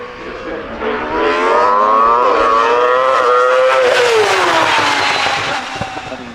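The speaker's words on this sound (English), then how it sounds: "V6 engine power." A V6-engined race car at a British Hillclimb Championship round at Harewood House accelerates hard past, its loud engine note climbing steadily and sustained near throughout with no talk over it.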